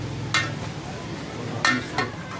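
One kilogram of chicken dropped into a pot of browned onions, garlic and ginger, sizzling steadily with a few sharp stirring clanks from a utensil against the pot.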